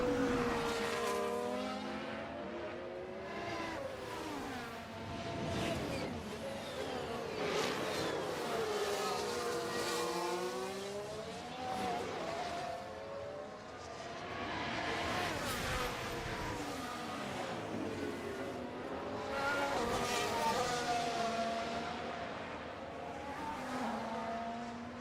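Formula 1 race cars in the F1 Manager 2024 racing game scream past one after another, their high engine notes rising and falling in sweeping Doppler passes, loud and continuous over the whole stretch with no talk.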